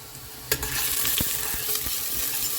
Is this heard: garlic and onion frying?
yes